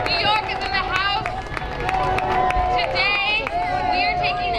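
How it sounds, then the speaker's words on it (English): A crowd at a New York rally cheers and shouts for a speaker taking the stage, with a dense roar, clapping and whoops mixed with loud talk throughout. "Give her a round of applause."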